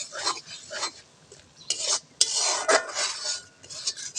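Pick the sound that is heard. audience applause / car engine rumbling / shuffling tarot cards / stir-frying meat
stir-frying meat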